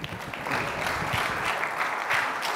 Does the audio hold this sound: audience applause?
yes